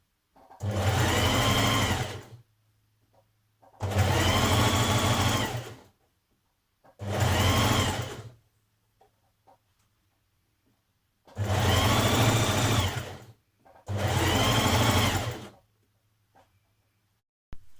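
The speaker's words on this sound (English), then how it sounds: "Stitch your band the whole way around the bottom." A sewing machine stitches a band around the bottom of a sweatshirt in five loud, whirring runs of about one to two and a half seconds each. Quiet gaps with a faint low hum separate the runs.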